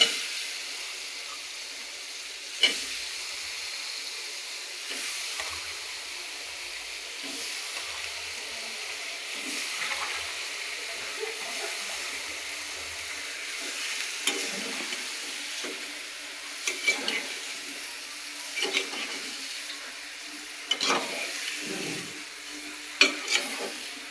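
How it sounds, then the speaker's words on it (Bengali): Ash gourd pieces go into a pan of fried spices, bringing steady sizzling and frying with repeated scraping and stirring clatters from a utensil, close and continuous. "এখন আমি চাল কুমড়াটা দিয়ে দেবো"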